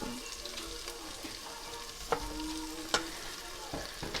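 Onion cooking in a pot for Zuppa Toscana, a soft sizzle with stirring and a few sharp utensil clinks against the pot, fairly quiet and close.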